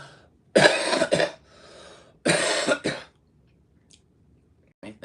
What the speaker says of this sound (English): excuse me, I have to cough real quick